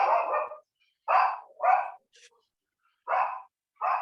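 A small dog barks close to a microphone during an online meeting, five sharp yaps in uneven bursts separated by silence, loud and near, with no talking.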